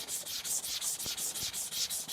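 An iron-clad Japanese knife is rubbed back and forth on a sharpening stone for a kasumi finish, a rhythmic, close, gritty scraping in steady strokes of about four per second, with no voices.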